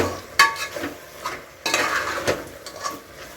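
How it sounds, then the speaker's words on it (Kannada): Chicken liver fry with sambar powder stirred in a pan, with close scraping and clinking strokes over a light sizzle, a few sharper scrapes standing out. "ಒಂದು ಸತಿ ಇನ್ನೊಂದು ಸತಿ ಕ್ಲೀನಾಗಿ ಮಿಕ್ಸ್ ಮಾಡ್ಕೊತೀನಿ"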